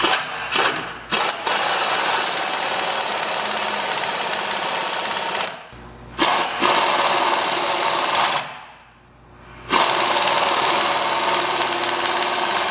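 A power tool tightens a bolt on a ReadyLIFT SST 4-inch lift kit, running in steady buzzing bursts with short pauses between pulls, loud and close with no talking.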